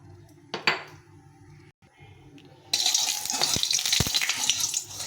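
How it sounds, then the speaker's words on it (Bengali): Fish frying in hot oil in a wok, a bright continuous sizzle that swells loud and close partway through, with a few utensil clinks against the pan. "প্রথমে মাছটা ভেজে নেব।"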